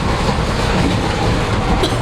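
A moving passenger train in India rattles along the tracks with a dense, continuous rumble and clatter, loud and close from inside the carriage, with no talking.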